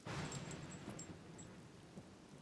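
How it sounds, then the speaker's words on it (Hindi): Rain and thunder ambience from a puzzle video game, a steady wash of falling rain with a low rumble early on, continuous and moderately loud with no voices. "बारिश की आवाज़ बहुत अच्छी है लेकिन इस गेम में"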